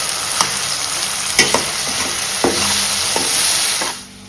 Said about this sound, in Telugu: టొమాటోస్ని ఒక స్మాష్ చేసుకోండి,